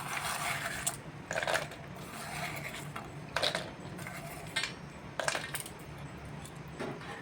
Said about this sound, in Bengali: এখন আমি কাজু বাদামগুলো দিয়ে দিচ্ছি